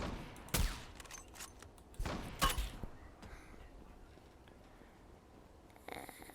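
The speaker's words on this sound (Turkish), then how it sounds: "Bayağı bir sıktı taramalıyla ama öldüremedi" Automatic rifle fire in a first-person shooter game, two sharp loud bursts of rapid shots close by, then quieter scattered game sounds and a faint burst at the end.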